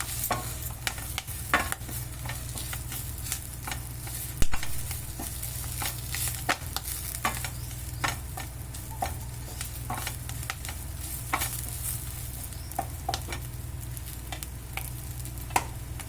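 Chennangi leaves sizzling and frying in oil while being stirred, with steady crackling and frequent scraping strokes of a spoon against the pan, close and moderately loud, no voices.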